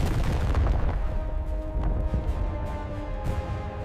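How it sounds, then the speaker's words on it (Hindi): Heavy artillery cannon fire on a Second World War battlefield: dense, continuous low rumbling booms with sharp blasts layered over one another, loud and unbroken throughout. "तोपों की आवाज ने जमीन को हिला दिया"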